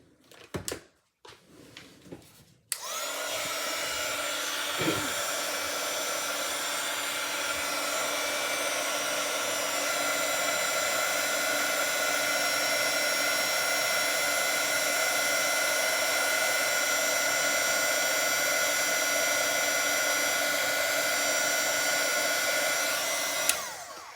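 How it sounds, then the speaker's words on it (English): A few clicks and handling knocks lead into a heat tool switching on, then a loud, steady whirring blow runs continuously for about twenty seconds while it melts white embossing powder on a card. "White embossing powder. Okay, then I'm going to heat that."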